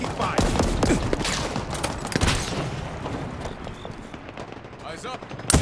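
Rapid gunfire in the sci-fi shooter Halo Infinite, dense sustained bursts and booms filling a chaotic firefight, with voice callouts mixed in.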